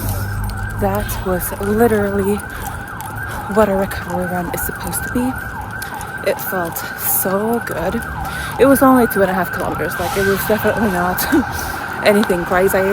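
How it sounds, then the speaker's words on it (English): Emergency vehicle sirens wail in repeated rising and falling sweeps nearby, running steadily underneath a person talking throughout. "Sorry about the sirens."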